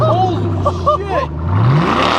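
A 2005 Ford Mustang with the 4.6L engine and a Borla ATAK exhaust rumbles low, then gives a short, rising rev near the end while people talk excitedly over it.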